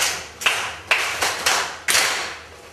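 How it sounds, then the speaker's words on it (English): Schoolchildren in a Kenyan science class break into short bursts of applause for a classmate, several rounds of clapping rising and fading across the room. "Clap for him."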